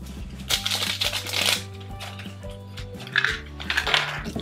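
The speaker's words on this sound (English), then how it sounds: "Okay, we'll keep peeling away here." Plastic safety wrap crinkles as it is peeled off a small toy surprise bottle, in two short bursts of rustling over steady background music.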